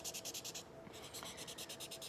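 A colorless blender marker scrubs back and forth on paper in quick rhythmic strokes, a soft close scratching that pauses briefly midway and then resumes.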